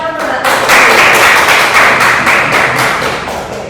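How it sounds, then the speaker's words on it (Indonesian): Students in a classroom clap together in a loud, close burst of applause with sharp individual hand slaps standing out, lasting several seconds. "Tepuk tangan untuk Mbak."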